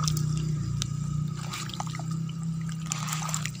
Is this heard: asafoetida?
no